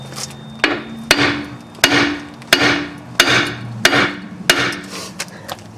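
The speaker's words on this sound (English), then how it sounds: "We're going to hit it with a hammer a few times and see if we can break it loose." A hammer strikes the front lower control arm of a 2001 Buick Park Avenue about eight times. The sharp metallic blows come at an uneven pace, each ringing briefly, loud and close.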